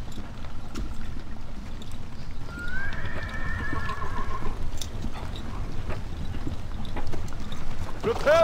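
Horses gallop with steady clip-clopping hooves throughout a Battle for Middle-earth battle scene, and a loud, drawn-out neigh rises partway through over the rumbling hoofbeats.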